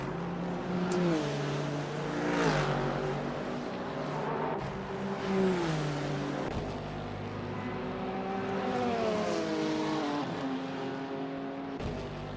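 GT3 race cars, including a BMW M4 GT3, roaring through a Daytona 24-hour endurance race in a racing video game, with engines rising and falling through gear changes and several cars layered into a steady, loud drone.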